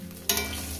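Lailontika fish sizzles in hot oil in a pan, with a sudden crackling hiss starting partway through that continues as a steady, close fry.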